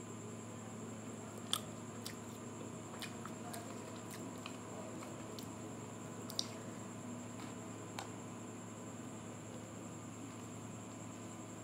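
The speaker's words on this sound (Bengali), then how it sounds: "এই লুচির পাতলা চালটা খেতে খুব ভালো লাগে।" Someone eats luchi, a thin fried flatbread made with palm fruit, producing soft, sparse chewing and biting clicks over a steady low background hum, quiet and close.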